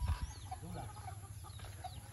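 Several chickens clucking in a neighbor's yard, soft scattered clucks and short calls at a middle distance over a low background hum, with a faint voice briefly present.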